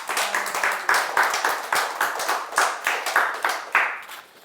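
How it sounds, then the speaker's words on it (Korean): An audience claps steadily in a hall in response to a host's call, a dense, even patter of many hands held at a fairly loud level for the whole stretch, with no talk over it. "자, 박수 한번 쳐주세요."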